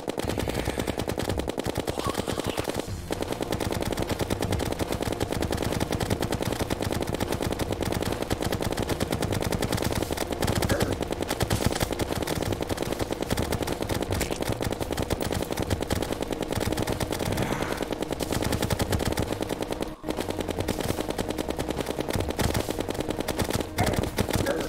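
Rapid, continuous firing from a ranged weapon in Terraria, a loud dense stream of shots running almost without pause for the whole stretch, with game music or effects layered underneath and no talking.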